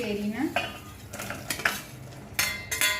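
Mango pieces go into a pan of sugar syrup on a low flame, clattering and scraping against the metal with a spoon stirring, several sharp close clinks over a faint sizzle.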